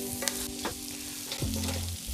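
Kung pao chicken with garlic pushed around a hot pan, a steady sizzle broken by a few sharp scrapes and clacks of the utensil, close and moderately loud, with no one talking.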